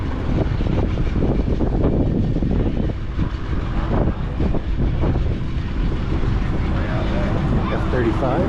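An F-35 fighter jet passes over the Sun N Fun airshow in Lakeland, Florida, with a loud, steady roar of rumbling, wind-buffeted engine noise that holds for the whole stretch.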